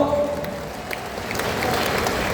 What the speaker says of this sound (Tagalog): Palapakan nato.